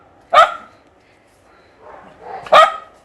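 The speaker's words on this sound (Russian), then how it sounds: "Вот мы гавкаем." A dog gives two sharp barks close by, about two seconds apart, with a softer whine-like sound just before the second.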